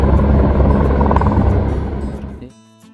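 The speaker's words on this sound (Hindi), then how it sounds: "हेलीकॉप्टर लैंड करता हुआ देखिए।" A helicopter landing at the Kedarnath helipad gives a loud, close rotor-and-engine roar that holds steady, then drops away sharply near the end as it settles.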